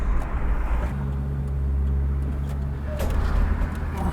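A Volvo 240 wagon fitted with twin 13B rotary engines drives along, its engine giving a steady, close, loud drone that swells slightly in the middle and holds throughout.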